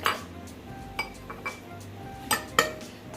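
Yeast, salt and an egg being mixed in a bowl for donut dough: a spoon clinks and taps against the bowl in a few sharp, close knocks over a quiet background, with no speech.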